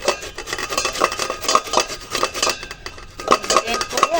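Raw green mango scraped against a kitchen grater, giving repeated rasping strokes with light metallic clinks, close and fairly steady.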